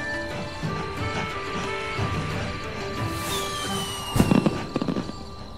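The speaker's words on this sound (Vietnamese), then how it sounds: "sắp tới tiết mục bắn pháo hoa đặc biệt của Teddy à" Cartoon fireworks display with steady whistling tones and a burst of crackling pops near the end, heard over a busy musical backdrop.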